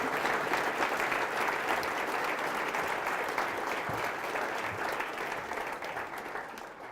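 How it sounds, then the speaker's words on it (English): A keynote audience gives a big round of applause, a thick, steady roar of clapping from a large crowd that gradually tapers off. "Everybody give them a big round of applause"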